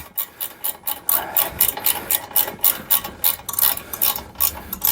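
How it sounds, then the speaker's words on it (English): Ratchet tightening bolts while fitting a Baker luggage rack to a Polaris Slingshot, giving rapid rhythmic clicking bursts in repeated strokes, close and crisp. "somehow or another my ratchet got flipped the other way"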